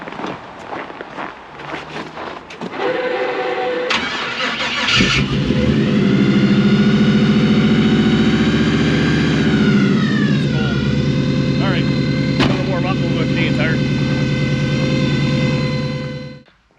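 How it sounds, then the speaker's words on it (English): A 1955 Chevy Nomad cranks over on a cold winter start and catches. The V8 then settles into a loud, steady idle with an occasional rev before it cuts off abruptly at the end. "A genuine Canadian cold start."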